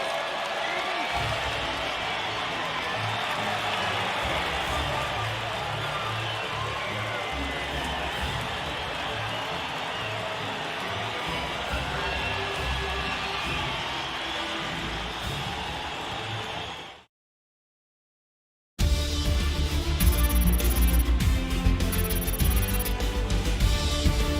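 A large crowd cheers and roars continuously at the podium celebration of a Formula 1 race in the French Grand Prix of F1 2020, dense and steady before a brief silence, then loud game music with cheering.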